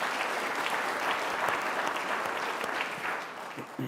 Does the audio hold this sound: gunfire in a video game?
no